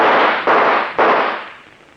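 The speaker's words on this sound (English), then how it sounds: "then I'll shoot." Gunshots fired as a sound effect in an old-time radio thriller drama: a blast followed by two more sharp reports about half a second apart, loud and close, each tailing off into a noisy decay.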